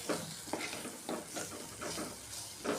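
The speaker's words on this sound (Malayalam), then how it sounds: "ഇളക്കി കൊടുക്കാം പൊടികൾ ഏകദേശം എണ്ണയിൽ കിടന്ന് നന്നായിട്ട് മൂത്ത് വന്നിട്ടുണ്ട്" Spice powders frying in hot oil for a fish dish, a quiet steady sizzle with repeated scraping strokes of a spoon stirring the pan, close by.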